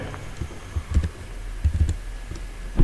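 An SQL query being typed on a computer keyboard, irregular bursts of close key clicks with short pauses between words.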